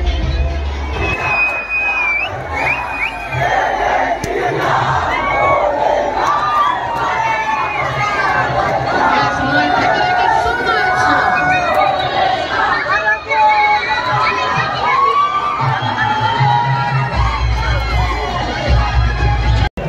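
A dense festival crowd at a Shivaji Maharaj Jayanti celebration in Sambhaji Nagar, continuous chatter, shouts and cheering from many voices at close range, with occasional louder whoops throughout.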